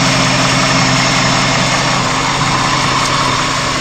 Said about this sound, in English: I love this engine.